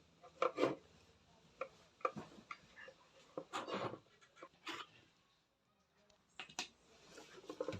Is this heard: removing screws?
yes